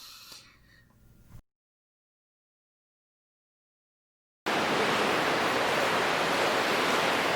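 Cold river water, about 35 degrees, rushes through a cave as a steady, loud broadband roar, close and unbroken, coming in suddenly after a stretch of dead silence that follows faint murmuring noises at the start.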